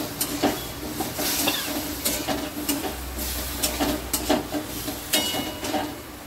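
A paste of ginger, green chili, poppy seed and ground pepper, thinned with a little water, sizzles and hisses in a pan as it is sautéed, with a steady close crackle and occasional spattering pops.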